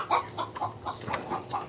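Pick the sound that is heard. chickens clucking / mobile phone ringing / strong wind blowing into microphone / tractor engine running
chickens clucking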